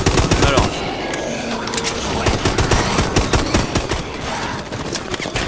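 Sustained automatic gunfire from a newly bought weapon in a zombie-wave survival video game, loud, rapid, continuous shots with clattering impacts, and a voice speaking underneath.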